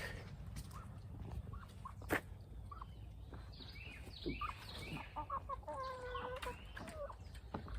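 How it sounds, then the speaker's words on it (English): Chickens clucking and chattering nearby, scattered short calls growing busier toward the end, with occasional knocks and rustles in the background. "I'm fixing to let my chickens out"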